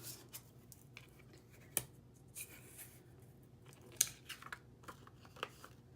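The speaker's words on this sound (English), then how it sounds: "we are going to cut 2 more butterflies" Scissors cutting butterfly shapes out of thin vellum paper, giving quiet scattered snips and crinkles with a few sharper clicks at irregular moments.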